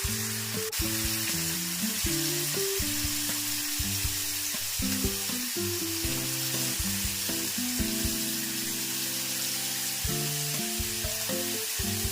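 Surmai and pomfret fish fry in hot oil in a pan, a steady close sizzle and crackle throughout, with faint tonal hum and music underneath.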